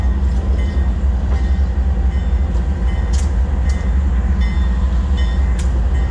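Freight train in a rail yard at km 575 during a manoeuvre to couple a helper locomotive to the tail of the train: a loud, continuous rumble of rolling wagons with faint scattered metallic squeals and clanks.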